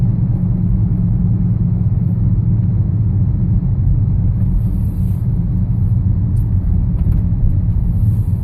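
A car driving along a road in Aschaffenburg, heard as a loud, steady low rumble of engine and road noise that stays constant throughout, with no talking.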